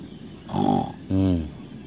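A human voice imitates a pig during a babi ngepet ritual, giving two short, low, throaty grunts, one muffled and one more nasal, close and moderately loud.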